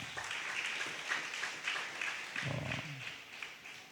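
A church congregation claps steadily during a sermon, heard faintly at a distance as a continuous patter, with a brief low murmur of voices partway through.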